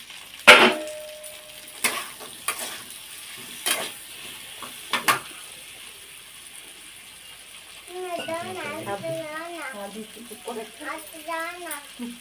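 Fish pieces and tomato frying in a pan, with a sharp clatter as they go in followed by a steady soft sizzle and stirring clinks; a voice chatters over the later part.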